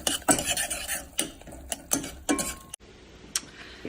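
Brussels sprouts and kale tossed with red pepper flakes in a dish, with a utensil scraping and clinking in several sharp bursts, then a quieter stretch with one final tap.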